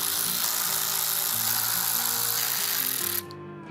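A power tool spins out the 10mm grille bolts on a 2008-2016 Ford Super Duty, a loud steady motor whine with shifting pitch that runs continuously for about three seconds, then cuts off abruptly.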